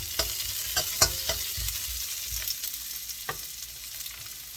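Onions stir-fried in a pan, a quiet continuous sizzle with light irregular clicks and scrapes of a utensil, close and fairly soft.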